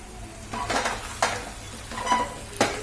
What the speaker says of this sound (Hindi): ये देखिए, इसे फ्राई कीजिए पूरे मसाले के अंदर।